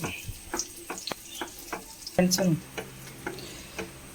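A semiya ice mixture flavoured with vanilla essence boils in a pan, giving scattered soft pops and ticks with a brief louder tonal burst midway. The clip is otherwise fairly quiet.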